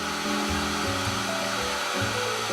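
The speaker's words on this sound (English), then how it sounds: "It's hard to talk when I've got the dryer going" A hair dryer blows steadily over a mixed media art card, a continuous close whooshing hum with a slight wavering pitch and no talking.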